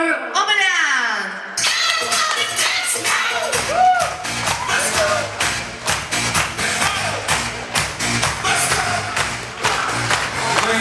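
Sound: wedding guests applauding

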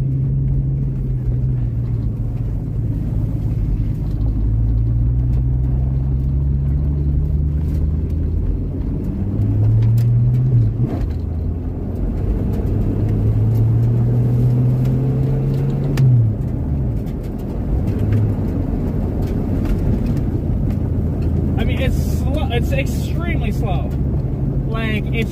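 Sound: old manual Ford Capri car engine running and driving

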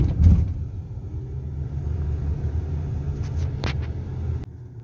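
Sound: car park with passing cars

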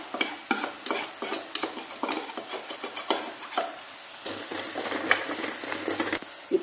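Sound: onion, ginger and garlic frying and being stirred in pan

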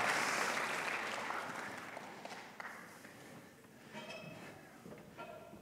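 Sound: audience applause for a volunteer

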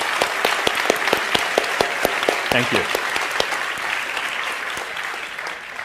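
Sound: audience applause for translators

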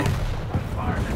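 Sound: gunfire in a video game

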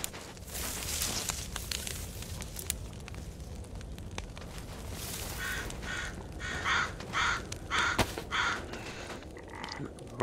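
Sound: crow cawing in the video game DayZ

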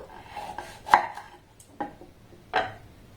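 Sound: knife cutting the ends off pointed gourd (potol)

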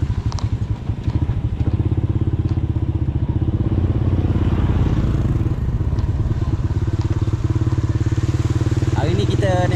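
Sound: motorcycle riding through flooded village

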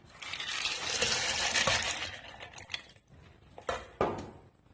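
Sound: dry green gram (mung beans) poured into a grinder jar

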